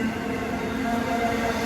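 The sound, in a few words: NS Dash 9 locomotive leading fast intermodal freight train passing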